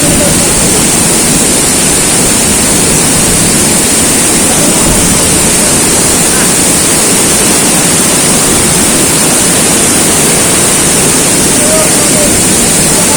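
Strong river current rushing at Pedalyon Falls in General Nakar, Quezon, a loud, steady, broadband roar of churning water that fills the whole scene without a break.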